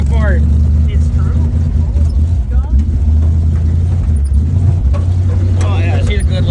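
An old vintage car engine revs under throttle while climbing a hill, a loud steady low rumble with rising and falling pitch, heard close with people talking over it.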